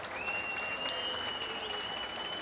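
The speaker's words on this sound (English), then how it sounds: "Thank you very much, guys. Clap your hands." Crowd applauding at Gamescom's Tarkov Arena, a steady dense clatter of many hands close by for a couple of seconds, with a faint tone ringing over it.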